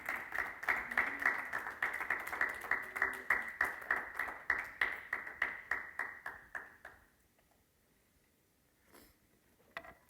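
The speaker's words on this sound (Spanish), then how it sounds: "Un aplauso a la gloria del Señor." A church congregation claps in a steady, quick rhythm, moderately loud and fairly close. The clapping continues for several seconds, then fades into near silence with a faint stray sound at the end.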